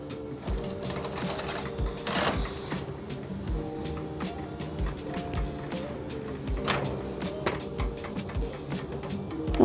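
A Brother KH588 standard-gauge knitting machine carriage knits wool, producing repeated mechanical clacks and rattles in an uneven rhythm with a few sharper rasping swipes, close and moderately loud, with no talk.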